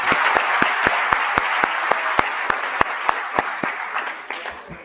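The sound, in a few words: audience applauding for themselves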